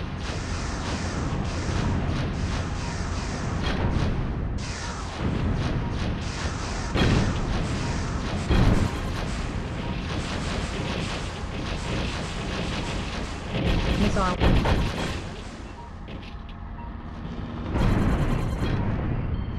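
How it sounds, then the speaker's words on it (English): Repeated heavy explosions from smart bombs in the video game Tunnel B1, loud deep booms and crashes arriving in bursts every few seconds over a constant rumbling mechanical bed. "Smart bomb dropped."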